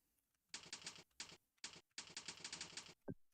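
Rapid bursts of keystrokes on a computer keyboard during an online typing test, clattering in quick clusters separated by short pauses, close and fairly quiet.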